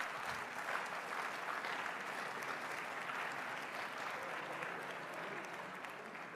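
A large crowd at a DeSantis event for Victims of Communism Day breaks into loud, sustained applause that keeps a steady level, with a voice faintly audible underneath.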